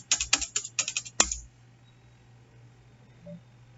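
A rapid burst of key presses on a computer keyboard enters a customer ID on a net-banking payment login, about a dozen close, crisp clicks over little more than a second, ending in one harder tap before quiet.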